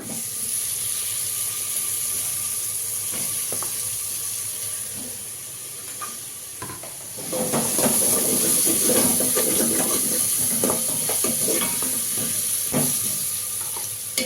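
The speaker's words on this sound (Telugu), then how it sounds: "కలుపుకున్న తర్వాత అందులోనే మనం ముందు కట్ చేసి పెట్టుకున్న బెండకాయలు" Chopped okra is added to a pan with turmeric and cooked, a quiet sizzle at first that turns louder with crackling and stirring scrapes from about halfway and keeps hissing steadily.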